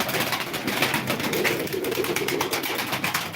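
Several pigeons coo continuously at a live pigeon auction, soft throaty calls overlapping close by amid a busy rustling background.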